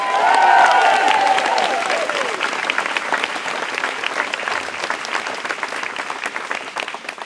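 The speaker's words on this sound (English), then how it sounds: "I'd like you to give him a massive round of applause" An audience at a Restore Nature Now event claps in tribute to an absent man, a loud burst of applause that starts strong, with a brief whistle near the start, then thins and tapers over several seconds.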